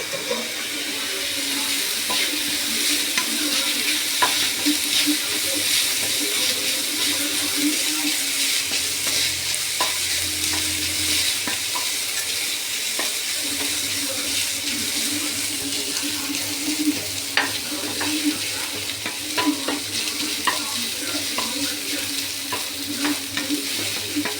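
Tempering sautéed in a pan for sambar, giving a long, steady, close frying sizzle with frequent small crackles and occasional utensil clicks throughout.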